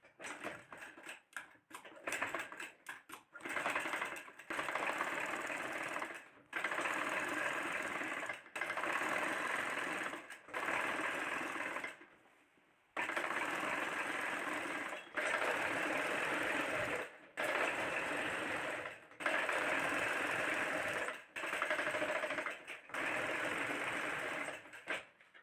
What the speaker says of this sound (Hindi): तो चलिए हम इसमें सिलाई लगा लेते हैं।